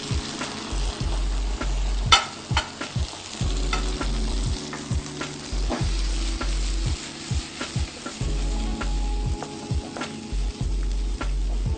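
Shallots and ground masala fry in a pan with a constant close sizzle, broken by regular scraping strokes of stirring. No one speaks.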